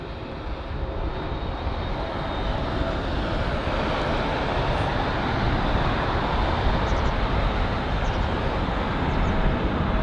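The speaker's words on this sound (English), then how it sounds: "So remember that United Boeing 777 that we saw pushback, and this is the same aircraft." A United Boeing 777 airliner taxis at London Heathrow airport, its engines giving a steady, loud, broad roar that holds for the whole stretch without pause, with no voices over it.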